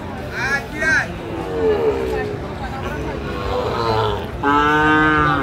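A Sahiwal bull calf at a busy cattle market gives several loud, drawn-out moos close by, with other cattle lowing and people talking in the background.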